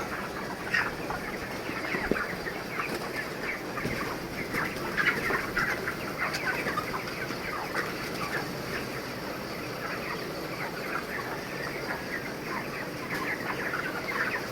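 Thirty-day-old broiler chickens cluck and chatter continuously across a poultry shed, a dense, steady flock murmur at moderate distance with no talking over it.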